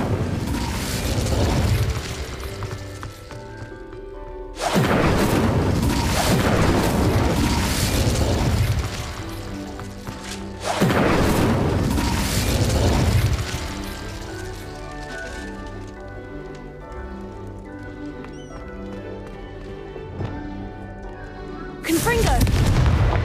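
Incendio fire spell cast in Hogwarts Legacy on Nintendo Switch, loud roaring bursts of flame repeating in several surges, layered over game music with a voice calling out.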